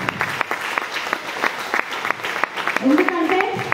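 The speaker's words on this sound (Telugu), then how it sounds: "కొత్త వాళ్ళు ఒక్కసారి బిగ్ రౌండ్ ఆఫ్ అప్లాజ్ ఇవ్వండి కొత్త వాళ్ళకి" A crowd in a meeting hall claps for newcomers, steady scattered hand claps running throughout at moderate loudness, with a voice speaking over the applause near the end.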